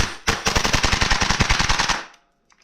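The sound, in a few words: Tokyo Marui MWS MK16 airsoft rifle firing rapidly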